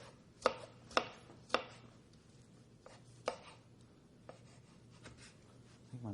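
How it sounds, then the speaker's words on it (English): A knife dicing herbs fairly small on a cutting board, with a handful of sharp, close chops spaced irregularly and fainter taps between them, the blade getting dull. "I like dicing it fairly small."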